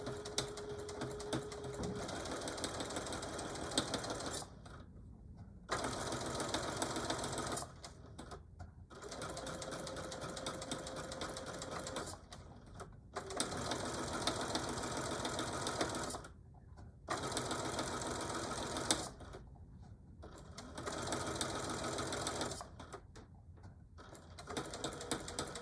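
A sewing machine stitches a Christmas quilt of half square triangles in repeated bursts of steady whirring, each run lasting a few seconds and separated by brief pauses, close and fairly loud with no talking.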